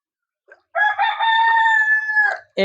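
A rooster crows loudly and close by in one long, drawn-out call on a flooded poultry farm, with a brief cluck just before it.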